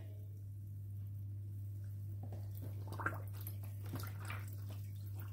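A knitted fin hat is pressed into a basin of water to soak for blocking, giving faint, soft sloshing and squishing that fades in after a couple of seconds over a steady low electrical hum.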